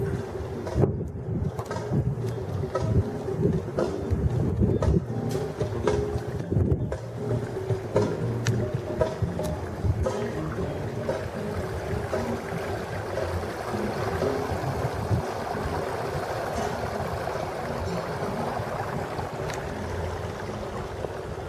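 A ship sailing north toward Vancouver gives off a steady, dense rumble of engine and rushing water that holds constant and fills the whole stretch, with no clear talking.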